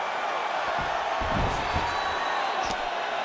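Video game crowd from a UFC 5 mixed martial arts bout roars steadily in an arena, a dense wash of cheering held throughout with a few thuds beneath it.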